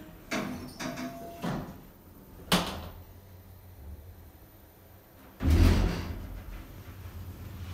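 Lift doors in a Lincoln Town Centre building sliding shut, with several soft knocks early on, a sharper clunk near the middle and a heavier thud as the doors meet, set against quiet ambient hum.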